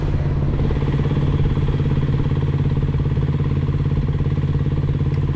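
A motorcycle engine turns over weakly under the starter, a steady close, loud churning drone with no pause, while a voice talks in the background.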